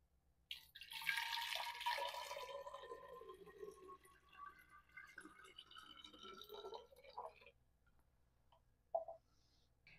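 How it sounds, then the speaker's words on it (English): Water pours from a container into a clear plastic bottle, filling it about halfway, a short gurgling stream lasting a couple of seconds, then quiet with a faint clink. "fill your clear bottle almost halfway with water"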